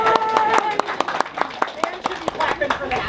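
Quick, rhythmic hand clapping at a library groundbreaking ceremony, fairly loud and close, mixed with people talking over it.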